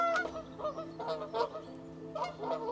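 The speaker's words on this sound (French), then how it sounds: "il y a plein d'oies qui passent un peu partout." A flock of geese flying over a parking lot honks repeatedly in overlapping calls, moderately loud and somewhat distant, over a steady low background hum.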